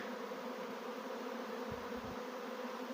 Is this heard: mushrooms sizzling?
no